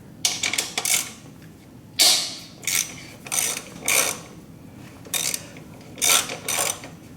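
A ratchet wrench loosening a motor mount bolt on a Suzuki Hayabusa, with close, sharp clicking bursts in short irregular strokes separated by brief pauses.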